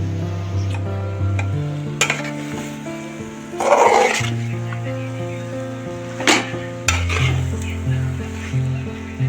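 Chili powder and salt stirred into a cucumber curry in a pan: a few scraping, rustling strokes of a spoon over a steady low droning tone, with a louder stir in the middle.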